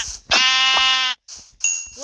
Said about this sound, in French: Parce que le mouton marron est ultra rare.